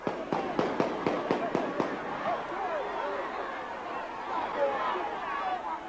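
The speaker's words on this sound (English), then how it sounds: "A victory for Tivoli, yet another excuse for gunfire." A rapid string of sharp cracking bangs of celebratory gunfire, several in quick succession, ringing out over a murmuring crowd in Tivoli Gardens, Jamaica, that keeps chattering after the shots stop.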